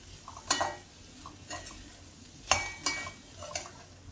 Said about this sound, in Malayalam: മുളകിൻ്റെ മല്ലിയുടെ ഒക്കെ ഒന്ന് പച്ചമണം പോകുന്ന വരെ ഒന്ന് ഇളക്കി യോജിപ്പിക്കാം